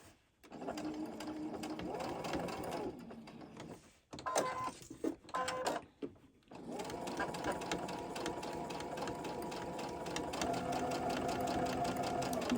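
A sewing machine stitches fabric for a small chap stick holder in bursts of steady, rapid mechanical whirring, broken by a short pause filled with clicks and handling noises before the stitching resumes.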